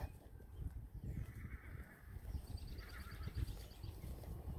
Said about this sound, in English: I don't know if you can hear my other horse. She's calling.